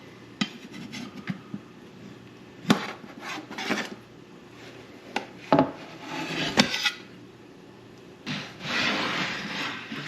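A Chicago deep dish pizza is pried from its pan, giving irregular metal scrapes, clinks and knocks of a utensil against the pan, with a longer rasping scrape near the end, close and without talk.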